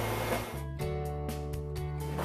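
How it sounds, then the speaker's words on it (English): A leather skiving machine thinning boot and shoe pieces runs with a steady mechanical hum, broken by rhythmic pulses roughly every half second, close and moderately loud. "This actually skives certain parts of each piece of the boot or shoe so it can be more easily sewn together."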